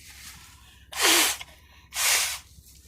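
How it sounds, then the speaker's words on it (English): Two forceful nose blows, each a short loud rush of air separated by a pause, close to the listener. "I shouldn't be blowing my nose on the thing,"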